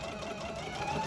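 A sewing machine back-stitches a fabric face mask over elastic, a fast even mechanical whir running close and steady without pause.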